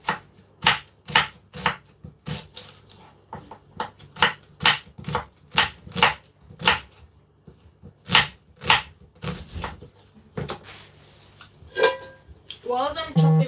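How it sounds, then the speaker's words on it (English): A knife chops onions on a cutting board for Ghanaian jollof rice, sharp close knocks in a quick, fairly steady rhythm with brief pauses, followed by a few clattering kitchen noises. "Whilst I'm chopping my onions,"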